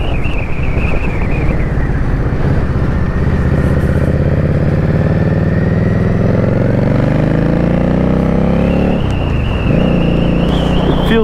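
An Indian Scout Bobber Twenty motorcycle engine runs loud and close with its exhaust valve closed, revving steadily and rising in pitch before easing off, with heavy wind buffeting throughout and no talk.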